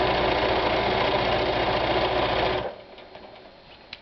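A sewing machine doing free motion quilting runs loud and close in a fast, steady whirring stitch for about two and a half seconds, then stops and leaves only faint handling noise.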